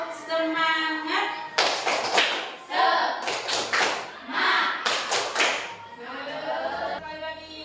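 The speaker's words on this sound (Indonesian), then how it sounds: "Sebelum ke materi, boleh tepuk semangat dulu." A school class does rhythmic spirit clapping in short bursts of sharp claps, alternating with children chanting along between the bursts.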